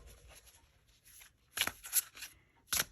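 A chunky tarot deck of thick cardstock being side-shuffled close up, quiet soft rustles followed by a few crisp slapping riffles, with no speech.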